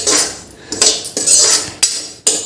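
A spoon is stirred continuously through food roasting in a pan, giving loud, close, repeated metallic scrapes and clinks in uneven strokes with brief pauses between them.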